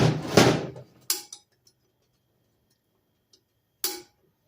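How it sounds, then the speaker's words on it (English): A snap ring pops out of a 4L60E transmission as a screwdriver levers it free: a short scraping burst, then sharp metallic clicks, and one more crisp snap after a quiet pause. "You'll get back behind that snap ring and pop it out."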